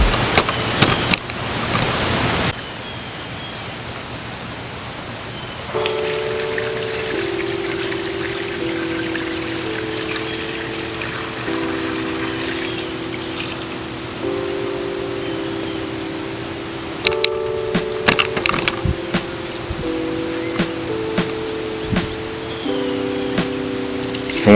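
Wild clay slurry water pouring slowly out of a bucket, a steady close wash of splashing liquid with a faint background tone, shifting in level as the pour starts and stops, with no talk.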